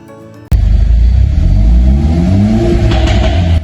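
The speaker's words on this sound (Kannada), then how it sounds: "FI ಎಕ್ಸಾಸ್ಟ್ಮೆಂಟ್ ಫಿಟ್ ಆದ್ಮೇಲೆ ನಾಯ್ಸ್ ನೋಟ್ ನೋಡುವ ಟೈಮ್ ಇದು" A Mercedes-Benz CLA 45 AMG fitted with an FI exhaust roars loudly to life after a short quiet moment, then holds a deep, rising rev with a rumbling, throaty tone close by.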